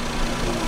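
A 2002 car engine runs in a short steady burst, a constant close mechanical hum with no talk over it.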